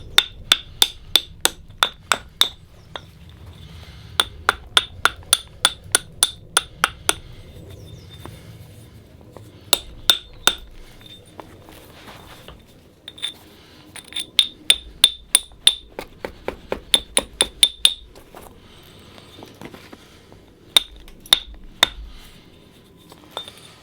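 Hammer blows strike a stone that hides a dagger inside, landing as loud, sharp, ringing hits in quick bursts of several strokes, separated by short pauses, with no talking.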